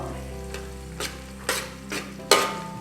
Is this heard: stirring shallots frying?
yes